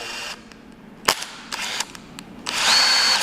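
Högert impact driver set to top speed sinking a long, thin screw: a few short sharp bursts and clicks, then a sustained loud high-pitched whir near the end.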